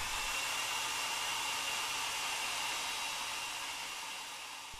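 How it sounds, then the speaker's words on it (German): A hair dryer blows steadily as hair is dried, a loud, even, hissing roar with a thin whine on top that holds constant and eases slightly toward the end. "I blow dry my hair."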